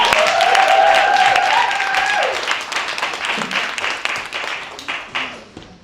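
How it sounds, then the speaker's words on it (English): Audience applause for volunteers at a drama therapy anniversary event, a dense, loud wash of clapping with cheering voices on top that gradually thins and fades over several seconds. "Round of applause for our volunteers."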